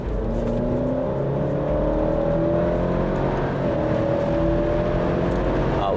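An SUV accelerates on the road, its engine note climbing steadily in pitch through the gears under a constant whirr of road and tyre noise, close and fairly loud.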